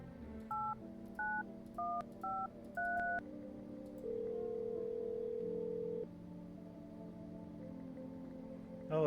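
Touch-tone telephone keypad in a video game dialing a number: a quick run of five distinct paired beeps, then a longer steady tone as the call connects, all clear and close with no talk.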